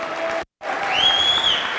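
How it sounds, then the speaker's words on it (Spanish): Audience applause for first-time attendees at a motivational training event, a dense wash of clapping that cuts out briefly and then resumes, with a whistle rising over the crowd. "Ponles un fuerte aplauso a todos los que vienen por primera vez"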